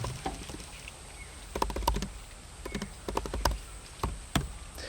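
Keystrokes on a computer keyboard while writing C++ source code: quick, irregular clusters of light taps with short gaps, fairly close and without speech.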